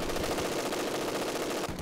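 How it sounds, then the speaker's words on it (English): Machine gun fire in Company of Heroes 2, a dense rattling burst of rapid shots at moderate distance that holds steady for almost two seconds. "And I have a second machine gun"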